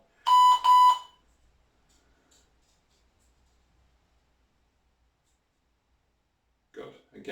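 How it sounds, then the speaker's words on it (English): A workout interval timer gives two short, loud electronic beeps right at the start, followed by several seconds of near silence before a voice begins speaking. "we're going to wait for the beeper to call us in"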